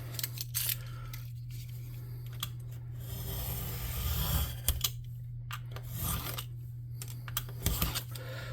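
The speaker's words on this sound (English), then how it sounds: "This is a game board box that I'm cutting up." Cardboard from a game board box is sliced with a chopper, giving repeated short crunching cuts and scraping rubs over a steady low electrical hum, close and fairly loud, with no speech.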